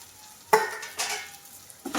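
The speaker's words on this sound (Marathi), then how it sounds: "पुन्हा एकदा असं पळीने आपण परतून घेऊया." A ladle stirs bottle gourd and moong dal with cooked tomatoes in a pan, giving a few separate, close scraping strokes with quiet pauses between them.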